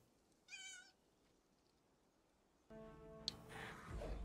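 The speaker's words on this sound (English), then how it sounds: "Meow, he says." A cat gives a single short meow, fairly close and clear, followed after a pause by a louder stretch of tonal background sound.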